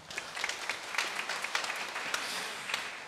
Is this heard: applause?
yes